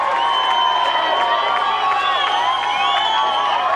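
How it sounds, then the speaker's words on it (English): A vocal crowd at the 2009 Derwent versus OHA grand final cheers and roars after a goal, a loud, sustained wall of voices with whoops and shouts rising throughout. "listen to that, a vocal Derwent crowd celebrating"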